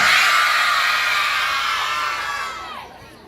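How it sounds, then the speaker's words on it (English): A crowd of second-grade children at an elementary school screams the word "I" together in one loud, sustained shout that slowly fades out over a few seconds. "Second graders, scream the word I as loud as you can."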